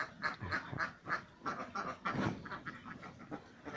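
Several laying ducks on a farm quack repeatedly in quick, overlapping bursts, close by and fairly loud, with no one talking.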